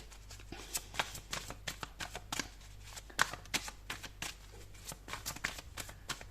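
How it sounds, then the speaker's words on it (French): Tarot cards are shuffled by hand in a quiet room, producing a run of crisp, rapid riffling bursts and soft slaps at an uneven rhythm, close and clear with no talking. "je prends également 3 cartes pour vous"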